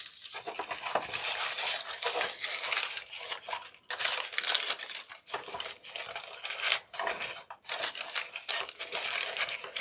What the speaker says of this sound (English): and crumple it around the styrofoam.